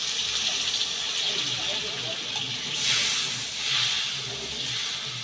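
Leftover spice water poured into a hot pan of eggs, giving a broad steady hiss with two swelling surges, close and fairly loud.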